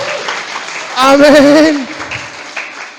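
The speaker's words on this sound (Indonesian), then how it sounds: "Tepuk tangan buat Tuhan." A congregation at a GBI Rock Tab church service bursts into a short round of applause, while a voice speaks a drawn-out word over the clapping, then talk continues faintly.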